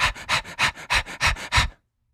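A voice imitates rhythmic panting, about seven quick breathy pulses in steady succession, close and fairly loud, used to demonstrate the Arabic letter ha, then silence.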